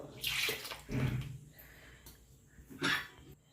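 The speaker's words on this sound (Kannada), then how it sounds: "ಅದಕ್ಕೆ ನಾನು ಸ್ವಲ್ಪ ನೀರು ಹಾಕಿಕೊಳ್ತಿದ್ದೇನೆ" Water splashes into a pot of catfish curry in a couple of brief pours, with quieter gaps and faint rustling between them.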